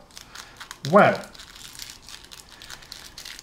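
Tight cellophane wrap crinkles as it is pulled off a deck of Prime Arte playing cards, one loud crackling burst near the start followed by faint rustling, with a person exclaiming briefly.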